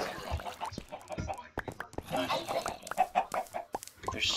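Chickens clucking in the Minecraft video game, a scattered run of short game-style clucks in a room full of birds, mixed under people talking.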